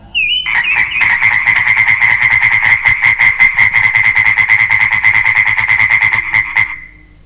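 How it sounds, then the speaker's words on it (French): A loud chorus of frogs croaking in a forest, rapid pulsing rattles repeating for several seconds after a brief whistle-like note, close and dominant before fading out. "des grenouilles coassent pour saluer Tiramilu"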